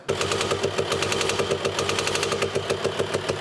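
A VW Transporter 2.5 TDI diesel engine runs after a camshaft and lifter repair, idling close by with an even, rapid clatter that holds a steady rhythm throughout, with no talking.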